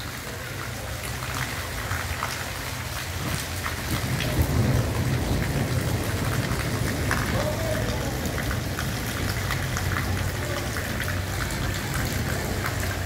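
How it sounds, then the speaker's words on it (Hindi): Heavy rain with hail pours steadily in Quetta, with low rumbling thunder rolling underneath and swelling louder after the first few seconds; no talking. "यानी मौसम यानी बारिश लवली मौसम"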